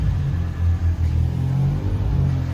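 Two drift-prepped Nissan S14 cars pulling away, a steady loud low engine rumble with revving swells that dip briefly and climb again, close by and with no talk over it.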